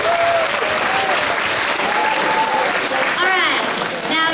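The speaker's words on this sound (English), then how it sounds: "let's go ahead and give her a round of applause" A school audience gives a steady, loud round of applause at a student project event, clapping filling the whole stretch while voices and a few cheers rise over it near the end.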